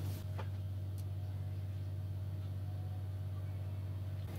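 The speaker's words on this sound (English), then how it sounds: "The fans are starting to spin up" Cooling fans on an ASUS Radeon RX570 graphics card mining Ethereum produce a steady low hum with a faint whirring drone, constant and unchanging, close by with no talk.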